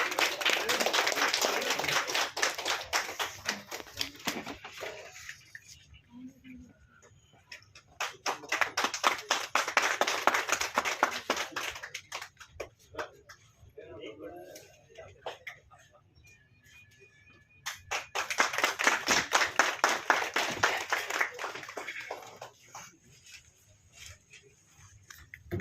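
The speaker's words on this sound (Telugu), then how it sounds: "క్లాప్స్ అండి, అందరికీ క్లాప్స్" An audience claps for the hero as he comes onto a stage at a live event, in three sustained bursts of applause separated by quieter gaps with voices talking.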